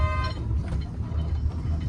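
A dumper truck's horn gives a short, bright toot at the start, then fades into a rumbling engine and road noise.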